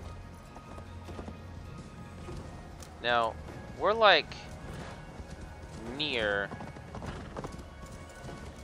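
Horse hooves clip-clopping while riding in the video game Assassin's Creed Valhalla, a soft steady trot under a man's speech, with a horse's loud neighs and snorts rising over it.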